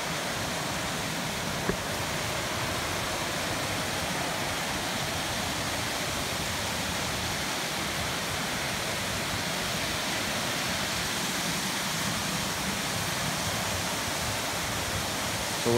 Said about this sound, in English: It's just a really cool waterfall.